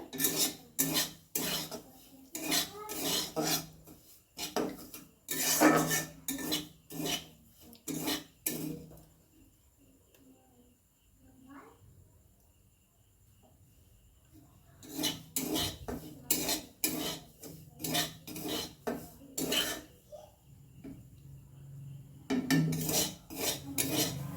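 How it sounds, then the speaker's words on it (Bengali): Dry semolina being stirred and roasted in a metal pan until lightly reddened, heard as bursts of scraping and clinking from a spoon against the pan, with a quieter pause midway before the scraping resumes. "সুজিটা আমার হালকা হালকা লাল হয়ে এসছে।"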